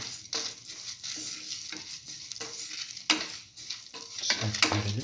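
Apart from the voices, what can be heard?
stir-frying egg bread with curry leaves in a pan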